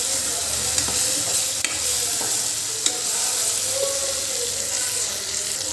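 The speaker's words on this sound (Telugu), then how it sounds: "సాల్ట్ వేసుకున్నా, ఇంకోసారి మిక్స్ చేసేస్తా అంతా." Capsicum curry stirred with salt in a hot pan, a loud continuous sizzle with occasional light spoon taps and scrapes, close by and steady, with no voices.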